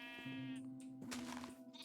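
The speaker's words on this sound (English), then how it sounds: "Here's a sheep. Oh, a bunch of them." Several sheep bleat in a Minecraft-style village scene, one drawn-out, wavering bleat close by and loud, with further overlapping bleats following in quick succession.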